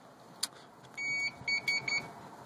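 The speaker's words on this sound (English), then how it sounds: "it's going to beep once, recognizing that it read the card, and then it's going to beep three times, letting you know you don't have access" An apartment RFID wireless entry card reader sounds one short electronic beep as the card is read, then a series of three beeps signalling access denied, clear and close with no talk.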